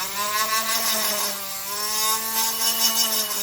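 A rotary power tool fitted with a 3M Scotch-Brite pad polishes the exhaust port of a chainsaw cylinder, a close, steady high-pitched whine with a scuffing rub that wavers slightly as pressure changes.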